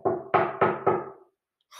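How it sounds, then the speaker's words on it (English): Four firm knocks on a door in a quick, evenly spaced run, loud and close, followed by a short silence and a faint hiss. "There's more knocking."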